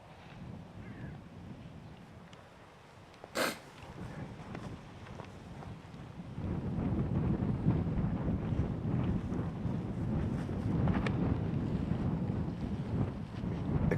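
Strong crosswind gusting across an open disc golf course at the Åland Open, a steady roar of wind buffeting the microphone that swells louder through the second half, with one sharp brief knock near the start.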